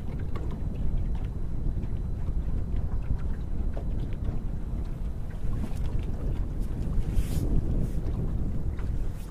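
Wind buffets a microphone outdoors during a catfishing trip in brutal winter conditions, a steady, loud, low rumbling roar with gusty surges and no voices.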